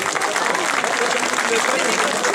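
A crowd applauds steadily throughout, a dense wash of clapping with no pauses.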